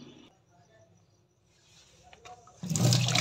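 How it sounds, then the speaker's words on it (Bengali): Cold tap water gushes loudly into a basin to cool freshly boiled soft-boiled eggs, bursting in after near-silence and a few faint kitchen clatters. "এবার সঙ্গে সঙ্গে বেসিনের ঠান্ডা জলে দিয়ে দেবো"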